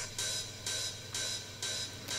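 Electronic hi-hat with a harsh metallic ringing left unfiltered, no EQ notch, pulsing in a steady repeating pattern of bright sustained hits, four or five across the stretch, with a low hum underneath; no voices.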